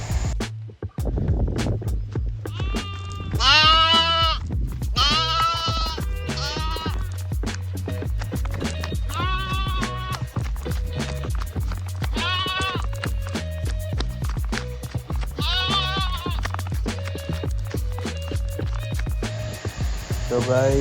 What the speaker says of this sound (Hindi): फिर कुछ देर भेड़ों के बच्चों के साथ खेलते हैं और करते हैं मस्ती।